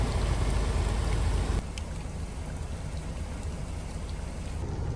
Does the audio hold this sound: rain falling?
yes